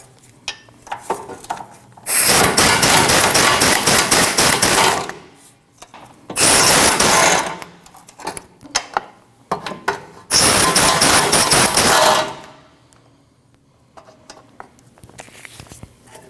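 A power tool loosens the 13mm nuts on a 2013-2019 Ford Escape's rear bumper impact absorber, heard as three separate loud buzzing mechanical bursts of about two seconds each, with quiet pauses between them.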